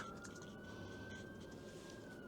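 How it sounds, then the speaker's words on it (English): Emergency sirens pass outside, heard indoors as a faint, steady high wail holding one pitch and drifting slightly under low room noise. "there's some sirens going on"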